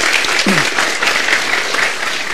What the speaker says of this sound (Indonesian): Sambil kasih tepuk tangan buat Tia lagi ya